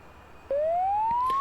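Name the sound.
cockpit warning alarm in DCS OH-58D Kiowa helicopter video game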